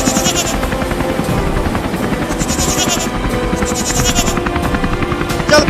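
A steady whirring cartoon helicopter drone fills the whole stretch, loud and close, with a goat's bleating cry mixed in.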